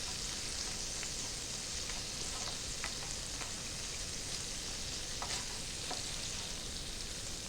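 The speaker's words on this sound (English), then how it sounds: "let that butter finish melting" Butter melts and sizzles in a pan with browning shallots, giving a steady, close frying hiss with occasional small pops and crackles.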